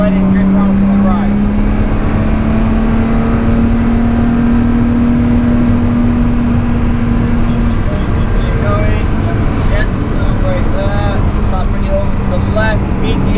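A race car accelerates around the Oulton Park circuit, its engine droning loud and steady with a rising pitch, while a voice talks over it throughout.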